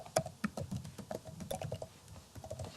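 Keys clatter on a computer keyboard while code is typed during a Python programming lesson, a quick irregular run of close, light clicks with no talking.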